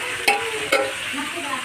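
Onion fritters, potatoes and lentil dumplings frying in a pan, a steady close sizzle broken by two sharp stirring scrapes.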